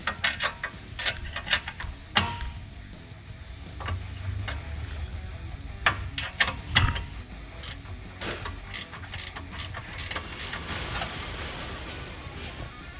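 Front bumper bolts being tightened on a 2014-2020 Polaris RZR 900/1000 S, a 3/4-inch top bolt and 11/16-inch bottom bolt, with close, repeated ratcheting clicks and metallic taps in irregular bursts, no talking.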